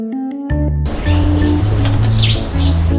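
A burst of wing flaps as starlings are released and take off, close and loud, with chirps and tonal bird calls alongside.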